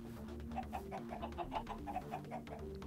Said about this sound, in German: Ich höre Hühner da drinnen.